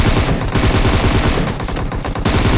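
Rapid automatic gunfire in a battle royale video game, loud and continuous, with dense machine-gun bursts filling the whole stretch and no pauses or voices.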